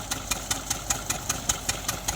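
A tractor engine idles during a peanut harvest, giving a steady, fairly quiet run of evenly spaced ticking pulses about five per second with no voices.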